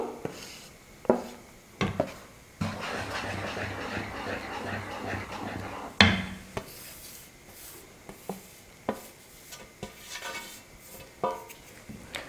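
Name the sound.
stirring flour into dough in a pot on the stove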